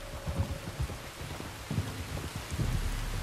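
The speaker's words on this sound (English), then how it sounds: "You were right about the damn rain." Rain falls in the Western game Red Dead Redemption, a steady patter with scattered droplet hits and low thumps, heard alone without voices.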